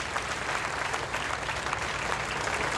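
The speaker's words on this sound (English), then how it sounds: "What about a big cheer for Jane and Santos, ladies and gentlemen?" A crowd cheers and applauds steadily at a cycling race presentation ceremony at the Tour Down Under, a dense, continuous wash of clapping and cheering throughout.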